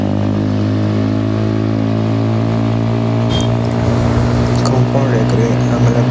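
Motorcycle engine runs steadily throughout a highway ride toward Bangalore, a continuous loud hum with strong low harmonics, rising slightly in revs and wind rush near the end.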